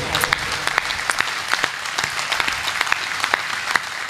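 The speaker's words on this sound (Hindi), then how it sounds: "तालियां उठाओ तो ऐसी उठाओ कि आपका जोश मुझ तक पहुंचे" An audience claps at a Hindi poetry recital, with scattered sharp individual claps that rise and fall in a loose, uneven rhythm, fairly close and moderately loud.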